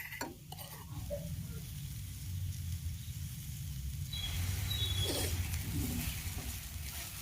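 Fresh grated coconut lightly fries in a pan with cane jaggery for a puli pitha filling, giving a soft, low sizzle with gentle stirring scrapes, fairly quiet and continuous.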